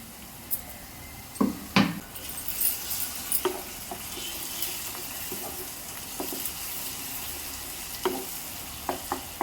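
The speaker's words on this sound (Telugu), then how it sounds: "ఫ్రై అవుతున్నాయండి, బాగా మగ్గిపోయి కదా." Food frying in a pan and being stirred while cooking, with a continuous sizzle broken by sharp scrapes and clinks of a utensil against the pan at close range; no one speaks.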